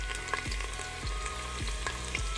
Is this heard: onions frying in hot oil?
yes